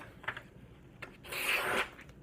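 A sharpened machete, honed on Japanese whetstones, slices through a sheet of paper in one smooth, papery swipe lasting about half a second, preceded by a faint rustle of the paper being handled.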